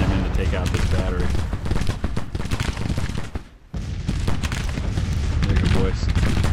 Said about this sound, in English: They're actually firing from horseback right now.